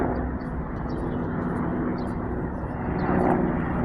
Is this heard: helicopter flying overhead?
yes